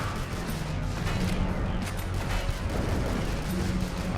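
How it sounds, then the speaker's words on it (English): Rocket explosions in the video game Astroswarm, a dense continuous barrage of booms and crackling blasts layered over game music, loud and steady throughout. "We're popping these guys off with explosions and frost explosions"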